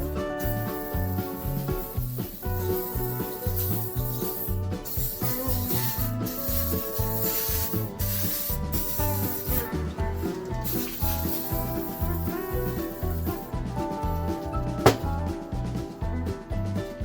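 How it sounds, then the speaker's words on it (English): A rag wipes WD-40 and dirt off a Bridgeport vise in repeated rubbing strokes, steady and close for much of the time, with no voices. "we'll take some WD-40 and clean off a lot of this dirt and crap that's sitting on here"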